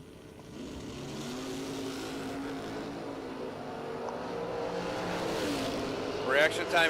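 A 1966 Chevelle drag racing car at a JEGS drag race, its engine holding a steady, loud droning note that builds toward the end, with a commentator talking over it.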